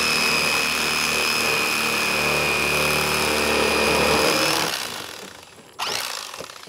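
A Rapala Heavy Duty electric fillet knife buzzing steadily as it fillets a small bluegill, a close motor whine with a faint tonal hum that cuts off abruptly near the end, followed by a brief clatter.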